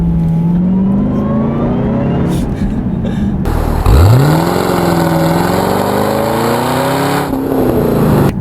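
A 2012 Cadillac CTS-V with 595 hp accelerates hard onto a high-speed road, its engine note climbing in a loud, continuous rising drone that drops at a shift and builds again, heard from inside the car.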